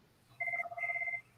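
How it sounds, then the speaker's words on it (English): A telephone rings in two bursts of a steady electronic trill with a brief gap between them, clear and fairly close, in a quiet talk-radio studio with no talking over it. "Somebody's got to answer the phone."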